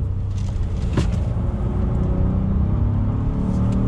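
Engine of a 2021 Honda Ridgeline HPD truck with a 9-speed automatic in sport mode, holding a gear at elevated revs: a steady, loud, continuous drone with harmonic rumble that stays level throughout, and no talking.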